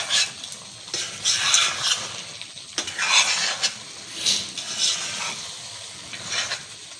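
Kata kat sizzles in a pan while a spatula stirs and clanks against it in uneven bursts, loud and close, with no talking.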